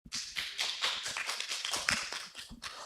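Conference audience clapping to welcome a speaker at an academic meeting, a burst of individual claps close and distinct rather than a dense roar, fading toward the end.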